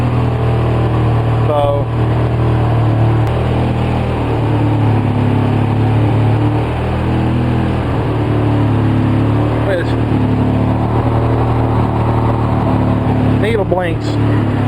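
A 2004 Polaris Sportsman 700 ATV with a carburetor boot problem idles roughly and steadily throughout, a loud close engine drone with someone talking over it.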